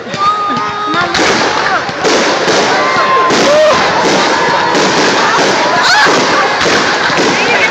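Fireworks bursting at a Fourth of July show in 2013, a steady barrage of loud pops and crackles with whistling trails, heard over a chattering crowd of onlookers throughout.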